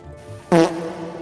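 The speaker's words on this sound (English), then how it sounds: "Fart noise. Play it." A fart sound effect is played during a gaming session, a single short loud burst that stands out sharply from the quiet background before fading.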